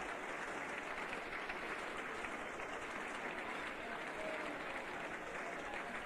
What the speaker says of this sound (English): Let's leave the applause for Randall from the Trent Ridge crowd as he comes in.